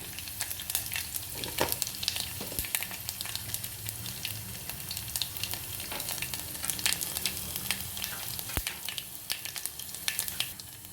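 Cumin seeds and dried red chillies frying in hot oil, alongside mustard seeds, for Telangana-style pappu charu: a steady, close crackling sizzle with sharp pops throughout, no voices.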